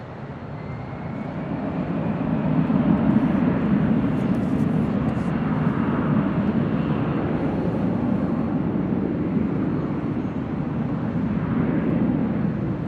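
A Delta jet airliner takes off from runway 24 left at LAX, its engines giving a steady, broad roar that swells in the first few seconds and then holds loud and constant throughout.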